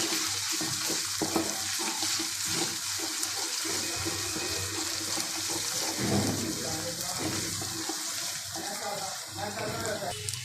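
Garlic ginger paste sizzles and frying onions are stirred around a pan, a steady hiss with scraping throughout, alongside some broadband water-like noise.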